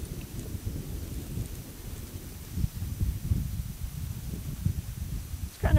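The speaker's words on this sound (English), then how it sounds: "doing things outside because the wind comes and goes" Wind gusting outdoors during an outdoor cooking session, a steady low rumbling buffet against the microphone that swells and fades throughout, close and fairly loud, with no voices.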